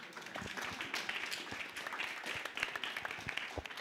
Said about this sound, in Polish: Dzięki wam serdeczne, brawa dla was.